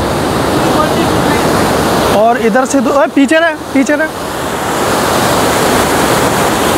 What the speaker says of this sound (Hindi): तो आप देख सकते हैं पानी का बहाव कम नहीं है